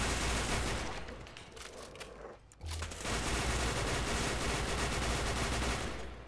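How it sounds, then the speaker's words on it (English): Rapid automatic gunfire and fusillades in the video game Fallout 4, dense and loud bursts filling the scene nearly continuously with a brief lull midway. "So now all we have to do is just shoot those guys."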